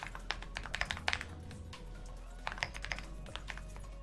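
A regex being entered on a computer keyboard: bursts of close, crisp key taps in uneven clusters, with short gaps between the runs.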